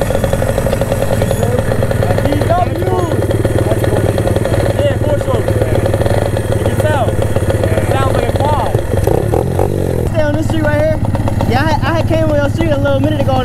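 A four-stroke 85 pit bike engine runs continuously up close, its loud buzzing rumble steady throughout with shifting revs, while people talk and shout over it.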